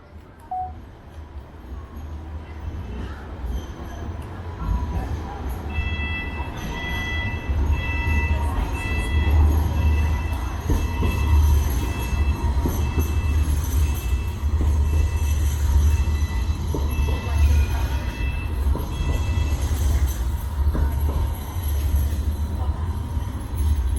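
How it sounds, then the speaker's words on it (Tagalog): A train rumbles past nearby in Sydney, Australia, a loud, steady roar of wheels and carriages with faint high squeals and tones over the low drone. "Tren na yun. Nakita ko na."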